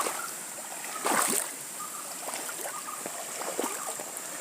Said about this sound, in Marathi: आज ह्या पाटाला पाणी सुरू झालेलं आहे.